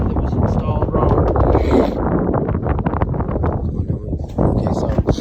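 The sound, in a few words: wind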